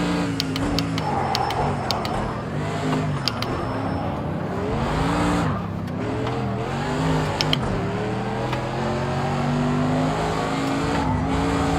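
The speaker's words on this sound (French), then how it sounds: "Je pars un petit peu en drift là." A race car drifting through a corner during a race in the video game Project Cars 2: the engine revs rise and fall under sustained tire squeal and skidding, loud and continuous, with no talking.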